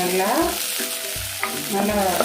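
Ingredients fry in hot oil in a pan for a chicken kola urundai curry, with a close, moderate sizzle and bursts of stirring and scraping. Voices talk softly over the cooking.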